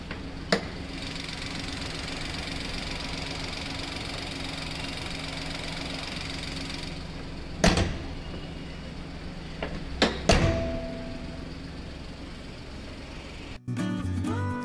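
A Maruti Suzuki car engine idles steadily with a low hum, close by, as the hood is opened and shut with a few sharp thuds and clunks, the last one changing the tone of the engine.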